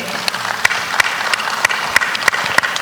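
Audience applause at a business roadshow event, a steady dense patter of many hands clapping with a few sharper claps standing out, filling the whole stretch at close range.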